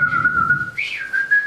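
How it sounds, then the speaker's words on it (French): A woman whistles alone: a sustained, wavering tone that dips, breaks briefly, then rises in a sharper upward swoop before settling into a held note again, clear and close. "femme commence à siffler."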